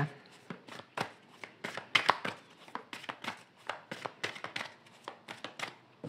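Tarot cards cut and shuffled by hand, giving a quick run of crisp, close slaps and riffles in an irregular rhythm, heard alone with no talking.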